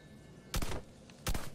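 Pistol shots in the video game Red Faction Armageddon: two sharp, loud single reports about three-quarters of a second apart, each with a short ringing tail, over faint background hum.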